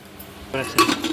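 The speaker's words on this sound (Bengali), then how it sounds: "আলুগুলো মাংসের ওপরে দিয়ে আমি হালকা করে নেড়ে নিচ্ছি একবার" Potatoes being stirred over meat in a cooking pot for a mutton dish, with a few clinks of a metal spoon scraping the pot, louder toward the end.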